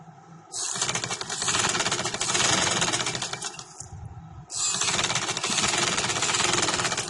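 A sewing machine stitches white trouser fabric in two sustained bursts of rapid, steady mechanical chatter, broken by a short pause near the middle, loud and close with no talking.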